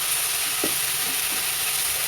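A grated coconut and jaggery mixture for coconut candy is stirred in a hot pan, giving a steady, close sizzling hiss with a few soft scraping strokes and no voices.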